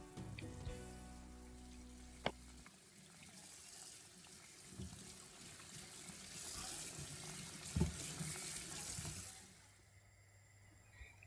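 Tap water runs steadily into a sink as beef short ribs are washed for Korean braised galbijjim, with clattering handling noises and a few sharp knocks along the way.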